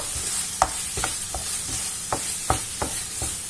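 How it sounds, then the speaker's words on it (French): A spoon stirs and mashes food in a sizzling pan, about eight short scraping knocks spaced unevenly over a constant bright frying hiss, close and clear with no talk. "Donc je continue de mélanger et écraser en même temps."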